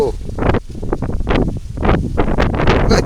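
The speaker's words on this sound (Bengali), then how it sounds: "বাতাস অনেক" Strong wind sweeping across rice paddy fields in a village, loud gusty rumbling and buffeting right at the microphone, rising and falling in uneven bursts throughout.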